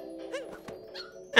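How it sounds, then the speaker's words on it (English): A small dog in the Super Mario Odyssey video game gives a few short yips and barks over a steady musical drone, with a brief burst of sound at the end. "There's a little doggo!"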